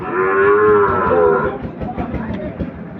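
A Sahiwal breed bull at a cattle market lets out one loud, close, drawn-out moo, which then fades into the market's background noise.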